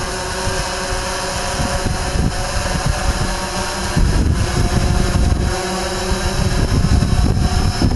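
A Typhoon H drone hovers in the air with a loud, steady whir of its rotors. Gusty wind noise buffets the microphone throughout.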